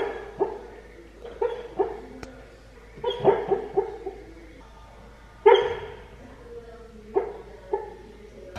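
A sleeping dog dreams aloud, letting out a string of muffled woofs, whimpers and yips in irregular bursts, close and fairly loud, with one sharper bark midway.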